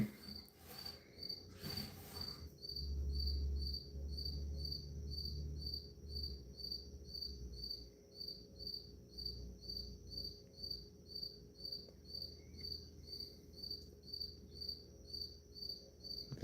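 A single cricket chirps in steady, evenly spaced pulses close by for the whole stretch, with a brief low rumble and some faint background noise early on.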